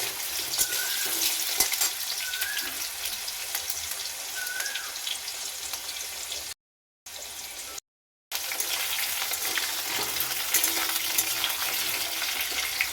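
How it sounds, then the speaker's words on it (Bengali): Potato pieces frying in hot oil seasoned with five-spice and dried red chillies, continuous sizzle with occasional crackles and stirring scrapes, close and steady, briefly cut out twice. "আলুটা ভেজে নেব।"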